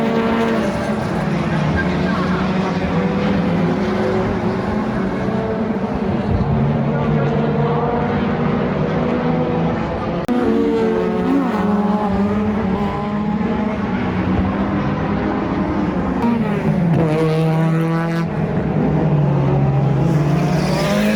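Race cars at Tsukuba Circuit roar past one after another, engines rising and falling in pitch through shifts and passes, loud and continuous with a voice talking over the noise.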